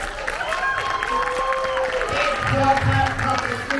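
Audience applause and crowd noise at a Sydney movie premiere for DC League of Super-Pets, a steady mid-level wash of clapping and murmuring voices that swells slightly near the end.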